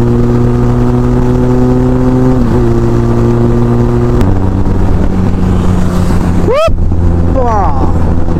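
A GD650 motorcycle drones steadily while riding, its pitch stepping down as the revs shift, with wind rushing over the microphone and a sharp rising whine near the end.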